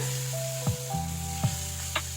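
Steady sizzling of something frying in hot oil, with a few brief clinks of a utensil stirring the pan.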